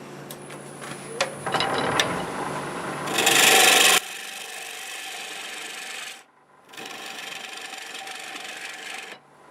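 Black locust burl bowl turned on a wood lathe as wood is hollowed from the middle: a close, loud scraping and rasping of tool on spinning wood with a harsh burst, then steady cutting, a short pause and more cutting.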